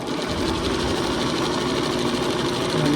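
Sewing machine running a zigzag stitch over folded elastic bias tape, a loud steady mechanical whir with rapid needle clatter, continuous and close for the whole stretch.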